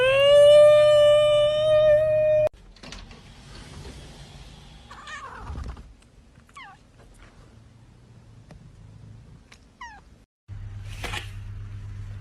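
A house cat meows loudly and close at first with a long drawn-out harmonic cry, then quieter chirps and mews follow over background noise, and a final loud meow comes near the end.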